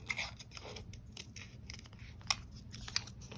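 Scissors snip paper for a vintage-style junk journal with a quiet run of small crisp cuts and a couple of sharper clicks, close up and alone.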